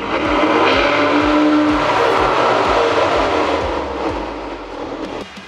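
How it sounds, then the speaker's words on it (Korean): A Kia Stinger 2.0 turbo AWD Platinum sports sedan runs close by, its exhaust giving a loud, steady rumble that eases slightly toward the end. "다음 배기음 듣고 오겠습니다"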